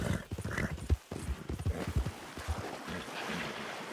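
Horse hooves clip-clop and a horse neighs in the Red Dead Redemption II video game, with steady rhythmic hoofbeats up close and a splash of water near the end.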